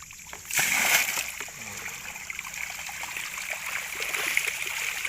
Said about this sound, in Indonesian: Sekarang kita siram lagi.